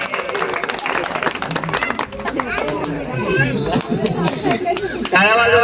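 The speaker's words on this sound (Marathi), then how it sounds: "टाळ्या वाजवा किंवा हसू आले की नाही" Audience at a stage hypnosis show applauds throughout, a dense steady patter of claps mixed with crowd chatter and laughter, with a voice rising over it near the end.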